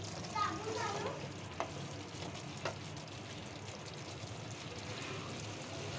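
Black pepper masala with chicken fries in oil in a pan, a soft steady sizzle with occasional stirring scrapes and light taps, moderately close and low in level.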